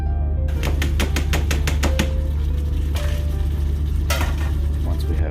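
A vegetable base mix is tipped into a pan of sizzling brown butter for a southwestern chicken chili. Clattering utensil scrapes and taps ring out over a loud steady sizzle, with a burst of fresh crackling as the vegetables land.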